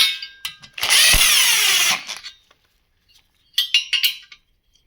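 A pneumatic impact gun drives bolts on a KT100 kart engine during assembly, with one loud, sustained rattling burst of about a second, then a short pause and two briefer, quieter bursts.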